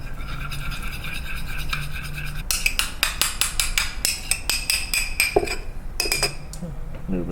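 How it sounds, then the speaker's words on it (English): Spicy tuna is stirred with mayonnaise and masago in a bowl, giving close, rapid clinks and scrapes of a utensil against the dish in an irregular rhythm, with no talking. "Mix it up."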